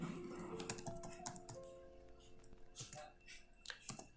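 Quiet typing on a computer keyboard while entering data into a Visual Basic car rental program: a soft, irregular run of keystroke clicks close by.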